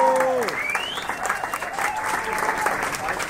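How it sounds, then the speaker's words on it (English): An audience applauds a big band between tunes, a steady wash of clapping with crowd murmur while a faint voice talks over it and a few tonal slides fade out early. "if you give them a bit of a round of applause, we might convince them to squeeze out a couple other tunes"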